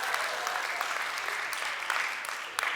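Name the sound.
audience applause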